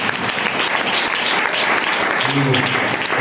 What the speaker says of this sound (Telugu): చప్పట్లు పడగలరు